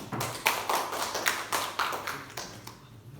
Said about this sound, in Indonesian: tepuk tangan buat Mbak Iza